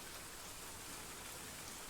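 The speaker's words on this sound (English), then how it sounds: "Until I woke up under the sound of rain." Steady, dense rain pouring down, a continuous even hiss of drops on surfaces with no break or thunder.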